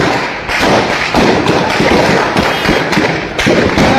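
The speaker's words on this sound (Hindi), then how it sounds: "ये आप देख सकते हैं कि फायरिंग हो रही है।" Heavy gunfire near the India–Nepal border comes as loud, repeated sharp cracks and thuds in quick, uneven bursts close by, with no voices in between.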